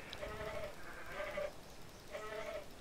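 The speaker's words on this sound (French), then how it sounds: "Il fait un petit peu le son d'une chèvre, hein, je veux pas dire, mais écoutez." A Pachycephalosaurus in ARK: Survival Evolved lets out three short, goat-like bleating calls, evenly spaced and fairly near, over quiet background ambience.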